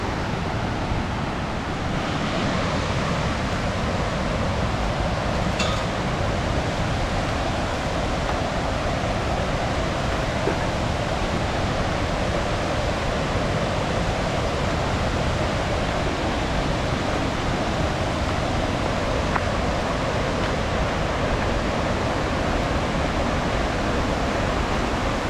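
Wewalwatta waterfall pouring steadily, a broad, unbroken roar of flowing water that stays constant and close throughout, with no voices.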